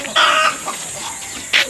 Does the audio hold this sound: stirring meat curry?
no